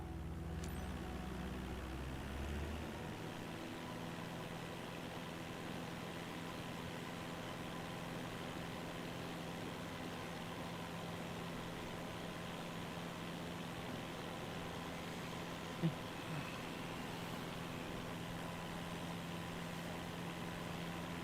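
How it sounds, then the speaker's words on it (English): A small plane's engine in Microsoft Flight Simulator 2024 drones as a steady, monotonous hum throughout with no voices. Its engine sounds like a lawnmower. "that lawnmower engine in this thing is screaming"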